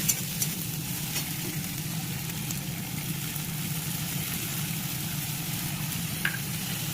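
Tomato, onion and garlic fry in a pan with a steady close sizzle, a constant crackling hiss broken by a few sharper pops and light stirring scrapes.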